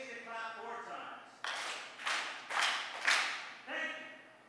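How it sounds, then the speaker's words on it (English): Part of a seated audience at an education panel claps together four times in a steady, slightly spaced rhythm, each clap a sharp collective burst, with a voice speaking before and after. "The rest of you can engage in clap four times."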